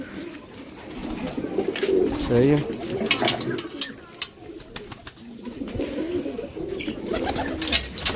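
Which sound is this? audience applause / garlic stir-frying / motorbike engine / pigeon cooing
pigeon cooing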